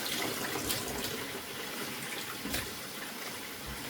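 Warm water runs steadily from a tap to rinse soil off peace lily roots over a bowl, a continuous close splashing wash with a few brief louder spurts.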